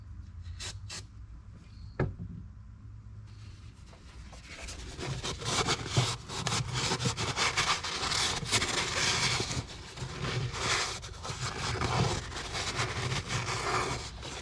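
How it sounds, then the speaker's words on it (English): Brake cleaner hisses steadily from an aerosol can onto the starter mounting surface of a 2012 Nissan Titan, a continuous spray with some rubbing and handling noises, close and fairly loud. "I'm just going to clean this surface here with some brake cleaner before I put the new starter in"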